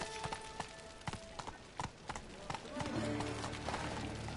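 Roach's hooves in Witcher 3 clip-clop in distinct, evenly spaced strikes, close and clear, then blur into a denser trotting rumble toward the end.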